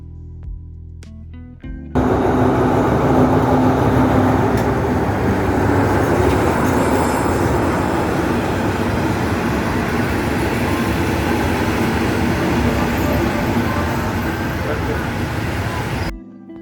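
Train at Kanchanaburi railway station in Thailand, a steady loud rumble of rolling carriages lasting about fourteen seconds after a brief quieter start, with faint voices of a station crowd underneath.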